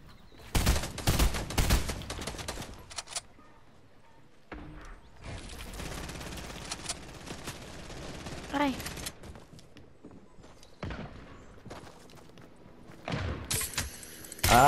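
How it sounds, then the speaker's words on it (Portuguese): Rapid bursts of video game gunfire, loud and close, come in repeated automatic volleys with mechanical clicks between them, while a player talks excitedly over the shooting. "Ah, eu tô errando um monte de tiro."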